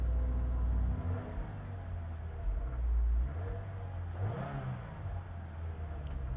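A 2022 Subaru WRX Premium engine, topping out at 6,000 RPM, revs up in a fairly quiet, low rumbling rise and fall heard from inside the car with the AC off.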